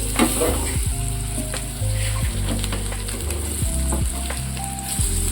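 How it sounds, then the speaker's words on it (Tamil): Sweetcorn vadai sizzle and crackle steadily in a small amount of hot oil, a dense close frying hiss with occasional pops and faint scraping. "இது வந்துட்டு கம்மியான எண்ணெயிலே நம்ம பொரிக்கலாம்"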